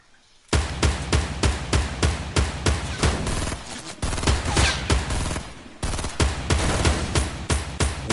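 Rapid gunfire from the video game Fortnite, a dense run of loud, close shots in quick, uneven bursts that keeps going almost without pause, with a short break partway through.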